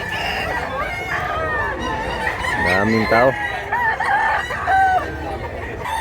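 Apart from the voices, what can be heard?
roosters crowing at a chicken market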